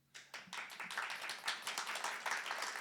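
A small audience gives a brief, light round of applause after a count-in, soft and fairly distant, with scattered claps building into a steady patter.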